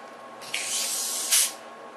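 A bottle of passion fruit water kefir under pressure is cracked open slowly, giving a close, loud spray of escaping gas that lasts about a second, then a second sharp hissing burst.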